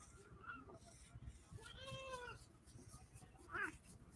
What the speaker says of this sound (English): If you hear the meowing, it's Pepper.